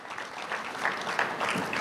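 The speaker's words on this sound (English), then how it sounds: "I'd like a round of applause for our sponsors who made it happen" An audience at a city expo event at the World Market Center gives a short burst of steady clapping, moderately loud and fairly close, with no talking over it.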